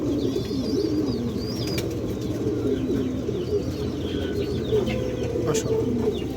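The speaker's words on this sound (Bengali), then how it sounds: "দুই পেয়ার সবুজ গলা বাঘা কবুতর আছে" Pigeons, green-necked Bagha pigeons among them, coo in repeated low, throaty phrases close by, over a steady background murmur, with a few higher bird chirps scattered through.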